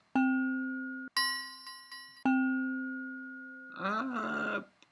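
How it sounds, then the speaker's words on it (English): Bell samples from the Ableton browser are previewed one after another, with sustained metallic tones ringing and decaying, a brighter higher bell in between, then a warbling, shimmering bell texture at the end. "bell kind of noise might be fun"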